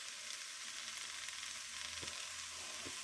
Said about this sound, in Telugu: ఇప్పుడు టమాటాలు మగ్గుతున్నాయి.